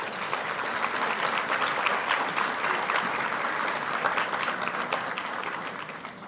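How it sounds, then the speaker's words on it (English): Audience applause at a leadership luncheon, a sustained even wash of many hands clapping that holds steady for several seconds and tapers slightly at the end. "Give her a big round of applause."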